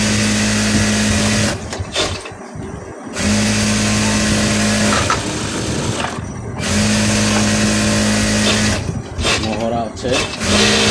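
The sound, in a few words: sewing machine stitching a blouse sleeve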